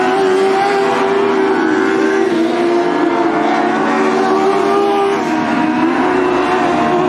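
Sprint race cars roar around the Southern Oregon Speedway oval in an ASCS Northwest Region event, a loud, continuous engine drone from several cars at full throttle that holds steady throughout with no pause.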